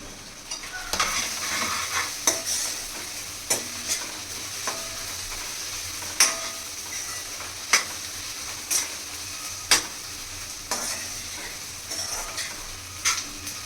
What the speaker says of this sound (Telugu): ఇప్పుడు నేను గ్రీన్ చిల్లీ కూడా యాడ్ చేస్తున్నాను